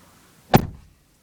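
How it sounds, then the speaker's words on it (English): A 2018 Nissan Leaf car door shuts with a single short, solid thunk close by, fading quickly into a quiet interior. "The doors have a lovely satisfying chink"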